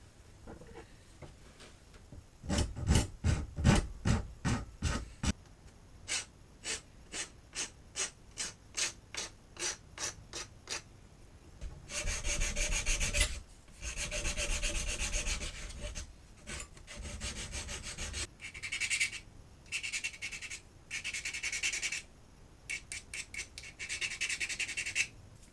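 A hardwood lure master held in a clamp and ground down, first a rhythmic series of rasping strokes, then longer continuous grinding passes with brief pauses, close and alone with no speech.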